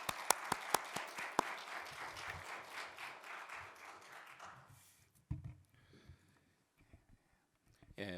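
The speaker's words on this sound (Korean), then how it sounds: "우리 하나님께 영광의 박수 올려드리면서 맞이하도록 하겠습니다" A church congregation claps to welcome a pastor to the pulpit for a sermon, a few sharp loud claps followed by a fading wash of applause, then a quiet room with faint scattered sounds.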